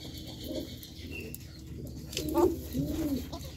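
Pigeons coo in short low bursts, one louder call near the end, against a steady background hum with faint distant chatter.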